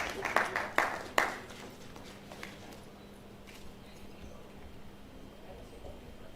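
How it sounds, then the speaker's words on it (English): A few scattered hand claps ring out near the start, then fade into quiet room tone. "Please keep clapping."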